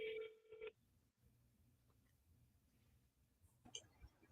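A telephone dials out to a gas station's corporate headquarters: a steady dial tone comes first, then after a quiet pause a short burst of dialing tones, close and without talk.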